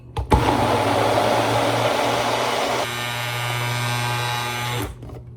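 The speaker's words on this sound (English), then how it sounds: "now we're just gonna blend it on up" A blender whirs through a smoothie in a loud, steady motor roar. It starts abruptly, its tone shifts partway through, and it runs for about four and a half seconds before cutting off.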